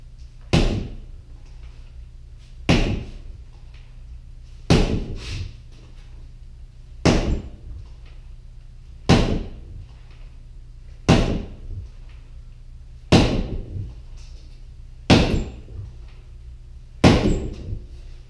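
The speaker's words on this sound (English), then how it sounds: "it is windy as hell outside, so you're probably going to hear" A garage door bangs and rattles in strong wind in a steady rhythm, about every two seconds, nine loud thumps over a low constant hum with no talking.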